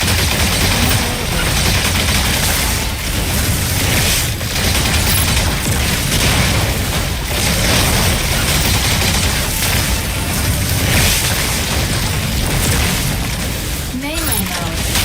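Dense, continuous weapon fire from mechs in shooting mode in the game Mecha Break, loud and relentless with booming hits throughout, and a voice speaking over part of it.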